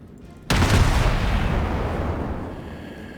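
A naval gun fires in the World of Warships video game: one sudden loud boom, then a long rumbling roll that slowly dies away.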